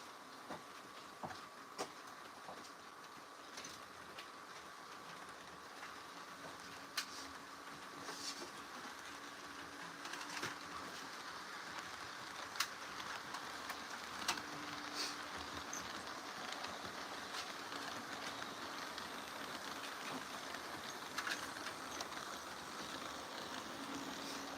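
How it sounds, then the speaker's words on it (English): A CSX train running in a train simulator game gives a faint, steady rail rumble with scattered clicks and light clacks over about twenty-five seconds, and no one speaks. "I'm going to get a CSX train running"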